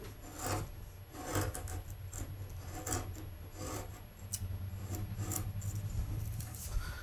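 A hand carving tool shaves excess wood away in steady, scraping rasps, close and fairly quiet, with a continuous run of short strokes and a faint low hum behind.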